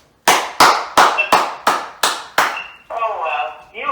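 Seven sharp, evenly spaced hand claps ring out loud and close, followed by a voice speaking right after them.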